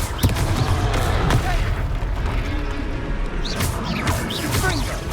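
Confringo blasting spell explosions in Hogwarts Legacy, a rapid run of heavy booms and crackling bursts over a low rumble, loud and close, with a voice calling out spells between blasts.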